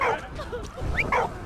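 A dog in the video game Valiant Hearts: The Great War gives a few short yips and whimpers in quick succession, close and clear, with a voice speaking around them.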